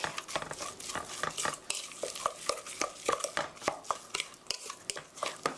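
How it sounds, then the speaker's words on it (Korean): Cabbage roll filling seasoned with ground black pepper is stirred and mixed in a bowl, a close series of irregular squelching, scraping strokes with light utensil clicks against the bowl. "고루 섞어주세요."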